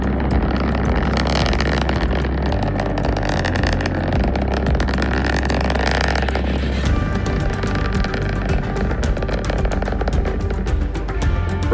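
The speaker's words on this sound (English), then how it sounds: "let's listen to the rumble of the BE4 engines igniting for the very first time, supporting the launch of a Vulcan rocket" ULA Vulcan rocket's BE-4 engines rumbling at launch, a loud, continuous, broadband roar with crackling that holds steady throughout.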